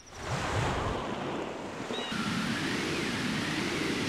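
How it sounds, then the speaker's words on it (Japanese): Huge roaring tornado wind in the Majora's Mask video game, a steady loud rushing gust like surf that holds throughout with no speech. "すんごい竜巻。"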